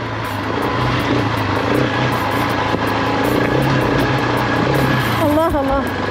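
A KTM 690 Enduro R motorcycle rides off-road on a mountain trail, its engine droning loudly and continuously up close with wind rush, and a rising rev warble near the end.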